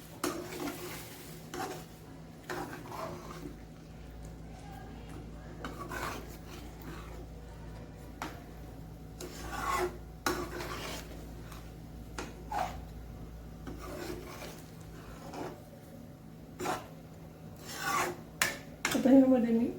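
Dal being stirred and mixed in a metal pot, with repeated scraping and rubbing strokes at an irregular rhythm, fairly close and moderately loud, with no talking.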